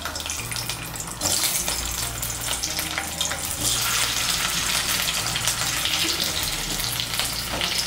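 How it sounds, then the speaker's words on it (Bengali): Boiled potato pieces fry in hot mustard oil, giving a steady, loud sizzle with crackling spatter and occasional stirring, close up with no talking. "তেলটা গরম হয়ে গিয়েছে, এর মধ্যে আলুগুলো ভেজে নিচ্ছি।"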